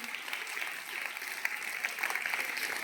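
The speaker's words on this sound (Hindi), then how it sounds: "जोरदार ताली है इस बात के लिए" Students applauding at a school morning assembly, a short burst of brisk, steady group clapping that continues evenly for a few seconds.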